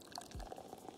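Soda pouring in a radio advert from the game Cities: Skylines, a brief faint fizzy pour with a low gulping splash and light dripping, heard alone.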